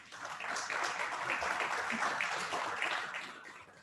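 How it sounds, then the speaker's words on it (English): Steady audience applause for a cellist fills a town hall launch event, a dense wash of many hands clapping continuously at moderate volume for several seconds with no voice over it. "may we give a round of applause to our awesome musician"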